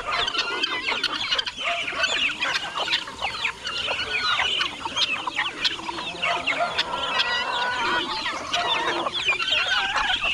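Chickens and chicks cluck and cheep in a farm coop, a dense, continuous flock chatter of overlapping calls close by, with no talk over it.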